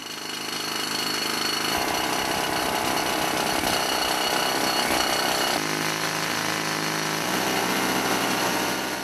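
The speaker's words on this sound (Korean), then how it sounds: "막대 끝에서 물이 나오는 것과 동시에 강한 압력으로 바위를 뚫고 들어가는 기계" A water-fed rock drill bores into hard quartz rock in a gold mine, a loud continuous hammering roar that runs steadily throughout with slight shifts in pitch.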